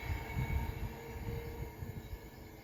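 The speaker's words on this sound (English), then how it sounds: "is a Pendolino going from Birmingham New Street to London Euston" A Pendolino electric express passes through Rugby on the West Coast Main Line, bound from Birmingham New Street to London Euston, giving a steady low rumble with faint wheel hum, fairly close and unbroken throughout, with no voices.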